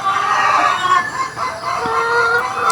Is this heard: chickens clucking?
yes